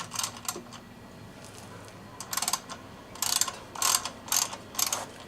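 A tool working the drive chain adjuster on a motorcycle with the rear axle bolt loosened, giving close bursts of ratcheting clicks separated by short pauses.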